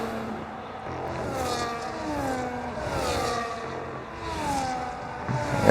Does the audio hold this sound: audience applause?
no